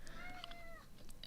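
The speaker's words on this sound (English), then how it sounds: "If you can hear that, that's my cat again." A pet cat gives a single drawn-out meow for attention, close but quiet, over a faint background hum.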